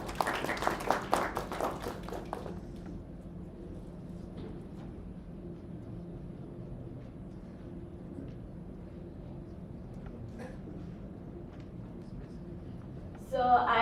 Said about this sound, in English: So let's just give him a clap for him too.